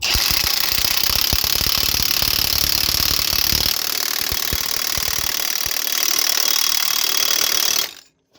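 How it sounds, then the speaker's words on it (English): An impact gun tightens the pinion yoke nut on a Freightliner Cascadia truck, giving a loud, continuous rapid hammering rattle for several seconds that stops abruptly near the end. "Now we're gonna tie it with this impact gun."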